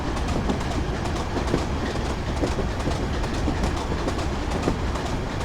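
A simulated train runs on rails in Train Simulator 2015 on a Darlington to Durham route, a loud, continuous rumble with rhythmic wheel clicks and clatter throughout.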